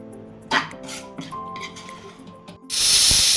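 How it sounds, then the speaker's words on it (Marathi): Pressure cooker whistle while chicken biryani cooks: after a few scattered kitchen knocks and soft tones, a loud, steady, hissing blast of steam bursts in and keeps going to the end. "आता एक शिट्टी झाली आपल्याला कुकरच्या तीन शिट्ट्या करून घ्यायच्या आहे"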